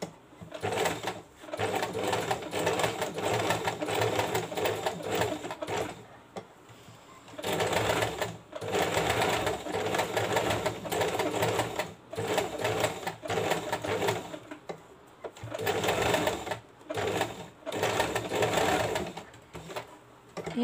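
An electric sewing machine runs in bursts, stitching lace along the inner edge of a model sleeve, its rapid whirring rattle stopping and starting several times with short pauses between runs.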